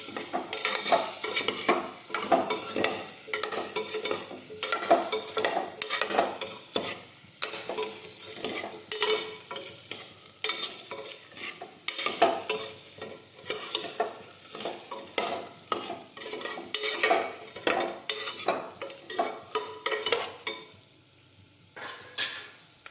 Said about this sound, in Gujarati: હવે આપણે થોડી વાર ધીમો ગેસ રાખી અને સાતળી દઈશું